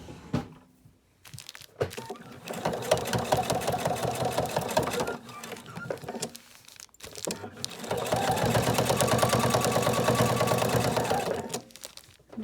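Sewing machine stitching fabric for a baby gift, rapid whirring bursts in two long runs separated by short pauses and soft handling noises.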